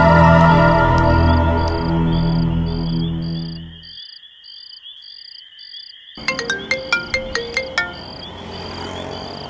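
A lawyer's mobile phone rings with an incoming call. A steady pulsing electronic tone first plays over background music, then over a brief hush, and then a chirpy trilling ringtone pattern repeats loudly.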